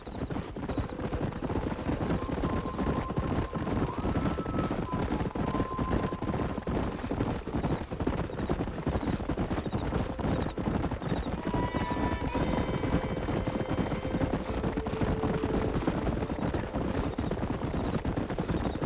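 Horses galloping in the video game Red Dead Redemption, a steady rapid drumming of hooves that continues throughout alongside wind and faint whinnies, with gunfire-like cracks mixed in.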